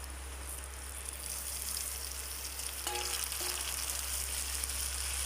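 Chicken pieces are added to a pan of hot oil with onions, frying at low heat in an Assamese-style chicken gravy, giving a steady soft sizzle throughout with a few brief clinks of a utensil midway.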